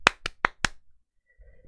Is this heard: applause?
yes